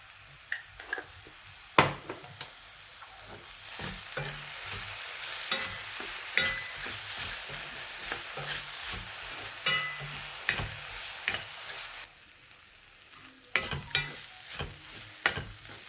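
Amla sautéed with turmeric and salt in a pan, a steady frying sizzle broken by repeated scraping stirs and light clinks of a spoon against the pan, close and fairly quiet with no talk.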